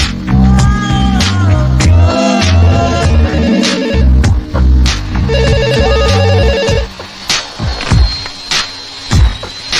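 A telephone ringtone from a Malayalam comedy film plays in repeated electronic bursts during a call, loud and close, followed by a short stretch of quieter clicks and hum.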